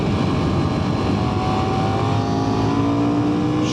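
A 2024 KTM 990 Duke motorcycle accelerates hard in third gear on rough roads, a loud, steady engine roar with a rising tone and strong wind rush running throughout, no talking.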